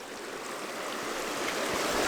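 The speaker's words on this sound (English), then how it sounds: "Got a little stream crossing to start us off." A small stream along a hiking trail, heard as a soft, steady wash of flowing water, faint and continuous with no voices.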